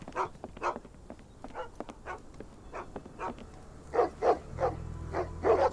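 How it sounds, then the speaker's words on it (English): Two dogs bark in the video game Sherlock Holmes The Awakened, at a hut on a boat in New Orleans. They give a rapid series of sharp, mid-distance barks and yips, growing more insistent toward the end. "I hear dogs."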